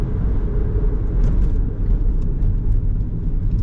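A car drives on a road in Macau, a loud, steady close-up engine and tire rumble with a constant low roar.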